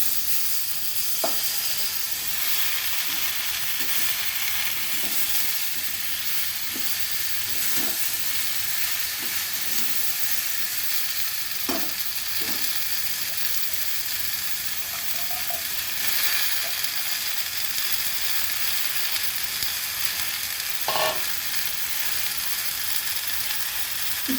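Pumpkin greens fry in a pan with a steady, close hiss and sizzle, broken by occasional light clicks and scrapes of stirring, with no one talking.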